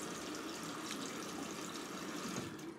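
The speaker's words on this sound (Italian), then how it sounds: "raccogliere un po' di acquetta, lasciarla cadere dentro la ciotolina" Water steadily trickling and splashing into a small shaving soap bowl as the Proraso natural soap is moistened, a continuous close liquid flow with no talk.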